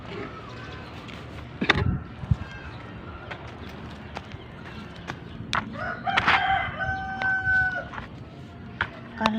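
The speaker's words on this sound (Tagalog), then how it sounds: "Ay, may manok." A rooster crows in a backyard garden, a few crowing calls with clucks scattered among rustling and soft handling noises, close and moderately loud, with brief quiet talk nearby.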